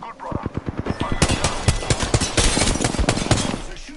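Rapid automatic gunfire in the video game Apex Legends, sustained bursts of dense rattling shots, loud and close, with voices talking over the shooting.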